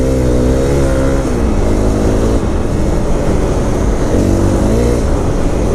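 A 2018 Honda CRF250L dirt bike engine revs loud and close on a muddy trail, pitch rising and falling across steady throttle blips with continuous wind and road noise underneath.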